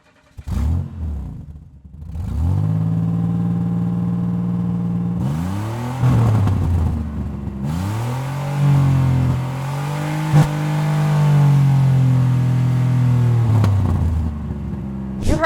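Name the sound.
Lamborghini Urus engine starting and revving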